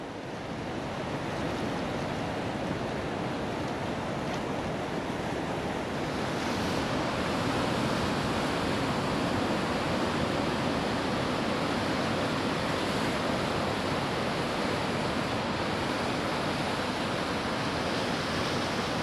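Pacific surf on a Vancouver Island beach at low tide, a steady broad roar of breaking waves with some wind rumble, continuous and fairly loud throughout with no voices.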